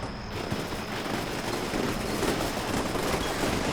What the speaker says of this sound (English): this has got to be one of the most vicious fights we've had in terms of gunfire